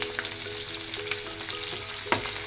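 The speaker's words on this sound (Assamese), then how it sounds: "এয়া পিঁয়াজখিনি ধুনীয়াকৈ সিজি গৈছে।" Onions frying in a pan for sambhar, with a continuous close sizzle and crackle of oil and a few stirring scrapes, steady and fairly loud with no talk.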